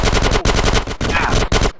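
Rapid automatic gunfire in GTA San Andreas, loud and close, in several dense bursts with brief gaps, ending abruptly.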